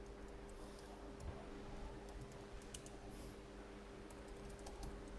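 Keys tapped on a computer keyboard while writing code, a faint, steady patter of soft clicks over a low hum, continuing throughout with no voice.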